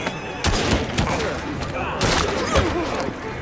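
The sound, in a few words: gunfire in the video game Assassin's Creed Syndicate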